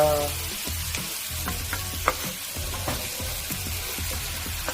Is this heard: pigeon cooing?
no